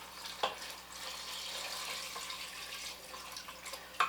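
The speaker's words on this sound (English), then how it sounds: "Now we're going to add beef broth." Beef broth poured into an Instant Pot for beef stew, a steady liquid splash and trickle lasting several seconds, with a couple of sharper knocks at the start and end.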